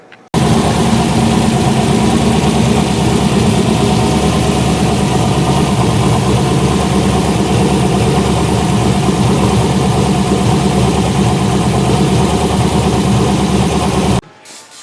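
A car engine on a dyno fires up and settles into a loud, steady idle, running continuously and close, then cuts off abruptly near the end.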